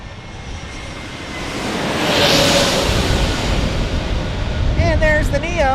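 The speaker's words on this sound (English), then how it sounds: "And there's the Neo. Hello. United Airlines from Denver." A United Airlines A320neo-family jet from Denver roars past loud and close, its broadband rumble swelling to a peak midway and staying strong to the end; brief chirping sounds appear near the finish.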